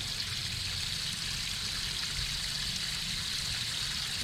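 Water runs steadily into a tub being filled to wash a quilt, a continuous close rushing trickle with no pauses and no voices.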